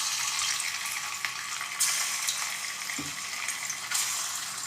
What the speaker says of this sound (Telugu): ఇవి ఫ్రై చేసుకోవడమే